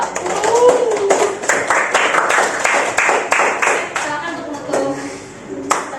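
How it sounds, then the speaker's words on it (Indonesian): Classroom audience clapping for a student group's presentation during a teacher-training session, a steady burst of many hands under a few overlapping voices, fading slightly toward the end. "Oke, tepuk tangan untuk kelompok 2."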